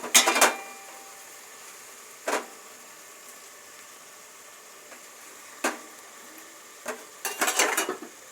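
Mustard seeds and curry leaves hitting hot oil in a pan while making poha, heard as a few sharp crackling bursts and clatters spaced across a quiet kitchen background, closest and busiest near the start and end.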